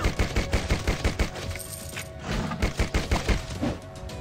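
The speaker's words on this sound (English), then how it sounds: "Let's also check out our brand new shiny gun." Rapid bursts of gunfire from a brand-new gun in the zombie shooter game Deadtime Defenders, loud and repeating in quick succession, with a steady rhythmic pounding of shots throughout.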